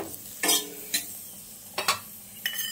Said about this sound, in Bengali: এরপর আমি দেখুন তেল দিয়ে দিলাম, দিয়ে খুন্তির সাহায্যে এইভাবে উল্টে দিচ্ছি।